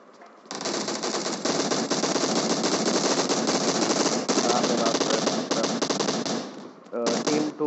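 Rapid automatic gunfire rattles almost nonstop during a fight in the mobile game PUBG Mobile, loud and sustained, with a brief gap before another burst.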